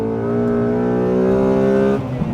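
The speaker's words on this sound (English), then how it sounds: "Down the gears, engine definitely revs up faster than mine, much faster." A stock Honda Accord Euro R engine revs hard through the gears, a loud, close, rising tonal whine that holds steady, then drops off sharply near the end.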